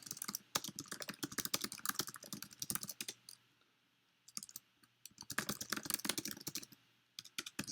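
Rapid typing on a computer keyboard, with dense bursts of close keystrokes, a pause of about a second, then more quick clattering runs.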